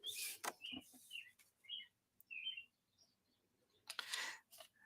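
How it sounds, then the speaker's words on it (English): Robins sing outside a window in short, separate chirping phrases, fairly faint and spaced through the quiet, with a few louder bursts of rustle or handling noise nearby. "You can hear the robins outside the window."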